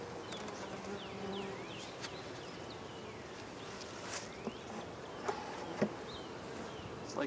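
Honeybees from a somewhat aggressive hive buzz around during a spring hive inspection, a steady hum of many insects close to the microphone, broken by a few light knocks and rustles, with no talking.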